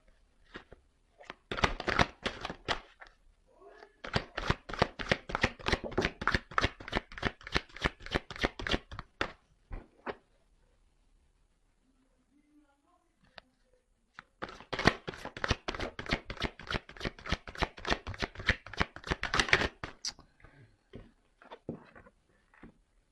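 A deck of tarot cards is cut and riffle-shuffled in close, crisp bursts: several quick flurries of fluttering card snaps, separated by pauses with a few soft taps and handling sounds, and no talking.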